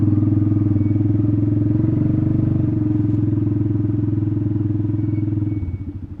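A quad ATV engine idling and running close by, a steady low throbbing rumble that shifts slightly in pitch before sputtering and dropping off near the end.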